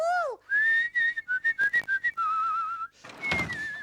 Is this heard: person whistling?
yes